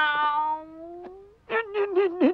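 A cartoon cat meows in a long, gliding call that trails off, then lets out a rapid run of four short, clear meows, close and alone with no talking.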